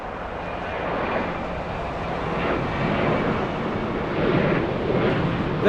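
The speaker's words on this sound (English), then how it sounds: "it's definitely a 767 flying in from JFK" A Boeing 767 airliner arriving from JFK and flying in to land at LAX gives a steady, broad jet roar that swells slightly over several seconds, with wind noise and no talking.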